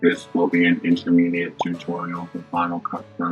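A spoken sentence processed through a robotic voice effect, with a buzzy, metallic, monotone quality over about three seconds.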